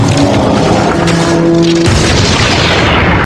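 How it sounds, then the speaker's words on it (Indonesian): A freezing grenade blows up in a film scene, a loud booming explosion that wipes out a steady tone and then rolls on as a heavy, roaring blast. "Tessa melemparkan granat pembeku terakhir. Ledakan mengguncang fasilitas"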